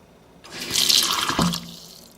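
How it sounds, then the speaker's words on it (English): Water poured from a container into a blended kale chip sauce in a kitchen, a splashing, gurgling pour lasting about a second, close and moderately loud, with no talking. "I'm going to throw a little bit of water in here"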